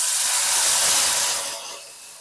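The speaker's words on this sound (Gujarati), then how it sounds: "હવે સહેજ આપણે એમાં પાણી નાખીશું" Water poured into a hot pan of spiced peas flashes into a loud, broad hiss and steam rush that fills the moment, then eases off to a softer sizzle. No one speaks.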